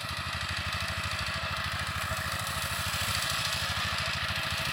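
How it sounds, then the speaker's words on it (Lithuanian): A small tractor tills soil on a banana plantation in Cambodia, its engine chugging loudly and steadily in a fast, even throb that does not let up. "Tai su tokiu traktoriuku rausia žemę."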